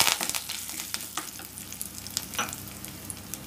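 Curry leaves drop into hot oil in a pan for a yam kuzhambu and crackle in sharp sizzling bursts. Stirring clatters up close and the frying fades to a steady hiss.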